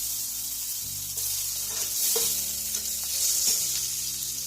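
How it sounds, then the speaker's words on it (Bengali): Onions, black cumin and tomatoes fry in oil in a wok while being stirred, a steady close sizzle with scraping spoon strokes and soft clinks, with no voices. "কড়াইয়ে তেল দিয়ে কালো জিরে পেঁয়াজ দিয়ে নাড়ছি"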